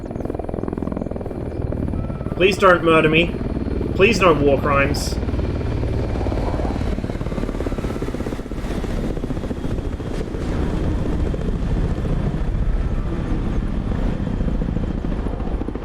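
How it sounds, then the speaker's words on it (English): Ka-50 helicopter in the DCS combat flight simulator, a steady rotor and engine drone running beneath frantic speech and brief bursts of other game sounds. "Oh, that's a helicopter."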